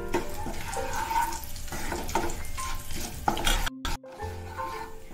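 Cloves, cinnamon, cardamom and a bay leaf fry in oil for a dhaba-style potato-egg masala curry, with a soft sizzle under intermittent stirring and scraping in the pan.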